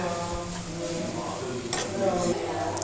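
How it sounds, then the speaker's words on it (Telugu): Cooked cabbage is stirred and mixed in a pan, with close scraping and clinking of a utensil over a low sizzle, and a voice speaks briefly underneath. "ఒక్కసారి అంతా బాగా మిక్స్ చేసేసుకొని"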